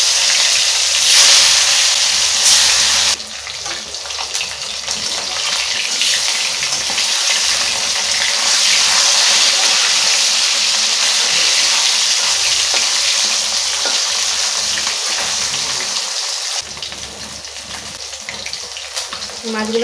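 Pieces of katla fish fry in hot oil, giving a loud, steady broadband sizzle that continues throughout, dipping briefly partway and near the end, with no voices.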